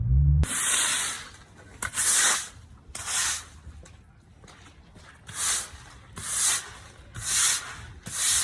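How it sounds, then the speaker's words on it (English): Rust being sanded off a horse trailer brake adjuster, the abrasive rasping in repeated strokes of uneven length with short pauses between, loud and close. "Here my dad is just sanding down that brake adjuster to get any of the rust off."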